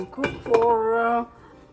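A metal lid set down on a pot of pork rib adobo simmering with potatoes, giving a close, loud clank followed by a ringing metallic tone that fades away.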